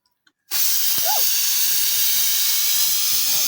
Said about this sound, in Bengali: এই যে মাংসটা সিদ্ধ বসিয়ে দিয়েছিলাম সিদ্ধ হয়ে গেছে এখন বাগার দিয়ে নিব